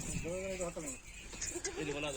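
Beetle breed goats on a Pakistani goat farm give short, wavering bleats, several in quick succession, close by and moderately loud over a busy farmyard background.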